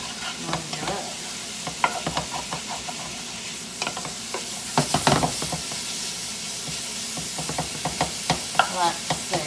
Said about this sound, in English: You don't need to watch me fry bacon.